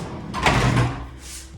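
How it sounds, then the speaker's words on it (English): A sliding veranda door on a Celebrity Apex cruise ship stateroom being shut, a close rolling slide that ends in a solid thud, then a short fading hiss of air. "You gotta shut these doors, shut this door"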